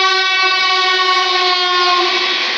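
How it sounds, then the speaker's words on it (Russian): A train horn blares in one long, steady harmonic blast, loud and close, holding at full strength for over two seconds before cutting off abruptly. "Поезд."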